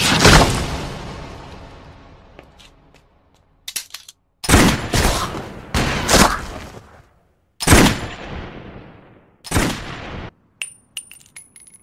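Sniper rifle shots in an anime: several loud, close, sharp blasts, each ringing out and decaying, spaced a second or two apart with brief quiet gaps and small metallic clinks between.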